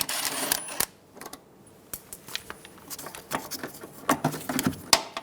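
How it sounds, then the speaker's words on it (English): Metal clicks and light clanks from a 10mm socket wrench removing the ABS bracket bolt on a 2007-2011 Toyota Camry front steering knuckle, coming as sparse, irregular taps and rattles close by with quiet gaps between them. "Using a 10mm socket, remove the bolt for the ABS bracket."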